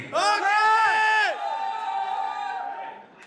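An audience at a celebrity cricket league event cheers: loud whooping and shouting voices swell together, then settle into a sustained, fading crowd cry.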